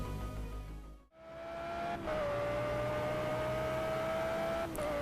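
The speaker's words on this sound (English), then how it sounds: "we're going to be taking the Audi R8 LMS Ultra GT3 car for a spin around Bathurst" An Audi R8 LMS Ultra GT3 race car at Bathurst in the game Project CARS drives close, with a sharp engine drop and cut then a steady, high droning whine as it holds speed.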